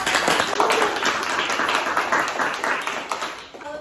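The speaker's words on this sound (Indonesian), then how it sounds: "Kasih tepuk tangan." Audience clapping after a talk, a dense, steady round of applause that fades slightly toward the end.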